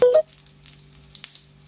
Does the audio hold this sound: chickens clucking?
no